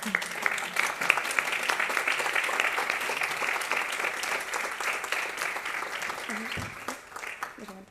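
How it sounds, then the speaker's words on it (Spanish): Audience applause at the end of a science talk, a sustained, dense roar of many hands clapping that gradually thins out toward the end, with some voices faintly underneath. "Bueno, aplausos."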